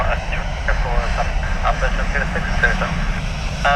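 An Airbus jet airliner roars steadily at Dublin Airport, a loud continuous engine rumble that stays close throughout while voices talk over it.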